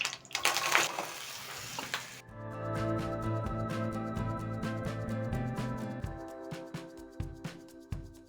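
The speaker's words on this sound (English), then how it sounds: "As the onions are cooking" Onions sizzle and crackle steadily in a hot pan, with a few clinks of a utensil and a burst of hissy noise at the start.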